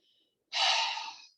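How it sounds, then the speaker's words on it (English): A single breathy exhale through an open mouth during a core exercise, a close, airy rush lasting under a second that fades out after a faint earlier breath. "Some sort of an exhale through an open mouth with some sort of a noise"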